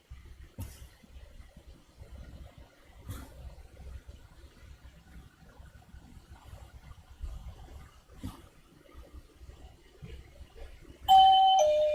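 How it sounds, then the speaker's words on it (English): Quiet room with a few faint knocks and thumps, then a loud electronic doorbell chime rings near the end. "You can hear this doorbell."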